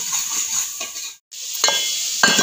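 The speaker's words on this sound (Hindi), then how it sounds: "मसाला भुन गया है, और मैं हुण मैं आलू पा दा" Masala sizzles loudly in a pan before potatoes go in, a steady close frying hiss broken by a brief gap and a couple of stirring scrapes.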